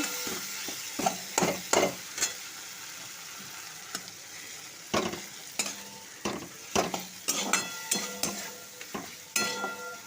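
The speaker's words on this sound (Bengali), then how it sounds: "জিরে গুঁড়ো দিয়ে দিলাম টমেটো দিয়ে দিলাম সমস্ত মশলা একেবারে ভালো করে কষিয়ে নেব" Spices stir-fried in oil with cumin powder and tomato, a constant sizzle broken by repeated loud scraping strokes of a spatula against the pan, close and rhythmic, no talking.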